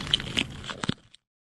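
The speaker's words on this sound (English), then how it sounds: "You should be listening for any crackling in the plate." A short series of faint crackles and small cracks from a body armor plate being checked for damage, a few sharp snaps clustered together, close up, then silence.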